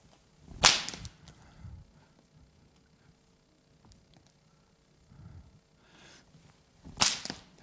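Two sharp whip cracks several seconds apart, loud and snappy, with softer swishing and rustling in between.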